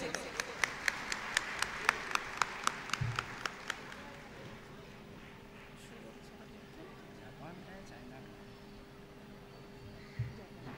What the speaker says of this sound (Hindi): जोरदार तालियों से करें।